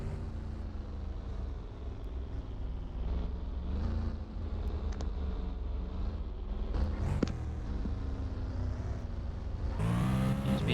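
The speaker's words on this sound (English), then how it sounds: "it's tonight's all comers for the National Saloon stock cars, and away they go down the home straight" National Saloon stock cars roar down the home straight at a race meeting, engines droning and revving together in a continuous pack at moderate distance, with a louder car sweeping close near the end.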